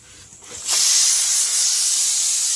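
A pressure cooker whistle cuts in after a quiet start and holds as a loud, steady hiss of escaping steam up close for about two seconds, with no talking.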